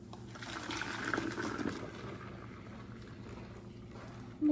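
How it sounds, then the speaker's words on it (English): Cucumber drink pours into a container as a soft, fairly quiet liquid trickle and splash that swells briefly and then settles, ending with a short knock. "we're gonna put this cucumber drink in there"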